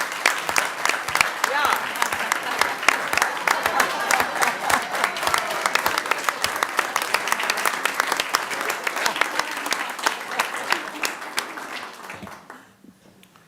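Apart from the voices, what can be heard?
applause at board meeting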